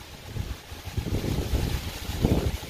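Gusty wind buffets the microphone in low, uneven rushes outdoors beside a New Holland Stackliner 1002 bale wagon, rising and falling over a few seconds with no voices.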